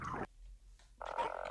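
A Jump Toad creature in the video game Half-Life: Poke646 gives two short, close croaks separated by a brief silence, the second a buzzy, pulsing rattle.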